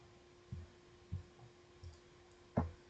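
Four soft, low mouse clicks spaced about half a second apart, quiet and close, while a router's network interface and DHCP settings are configured in Winbox; a faint steady hum runs underneath.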